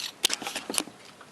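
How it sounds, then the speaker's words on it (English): Several sharp metallic jingles and clinks in quick succession, like keys dropping and rattling beside a 1983 Ford LTD Crown Victoria coupe, close by and fairly quiet. "listen to me keep dropping the keys."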